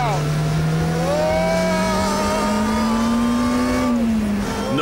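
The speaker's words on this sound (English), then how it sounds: "this is the engine air intake. It's sucking air in here." An Ariel Atom engine running hard, its air intake loud and close, with a sustained droning whine and rising harmonic tones over roughly five seconds of dense, unbroken engine noise.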